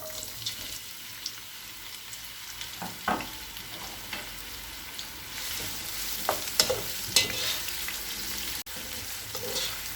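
Onions with cumin seeds frying in hot cooking oil while being stirred, a soft continuous sizzle under repeated scraping strokes of a spoon against the pan, with a sharp clatter near the end.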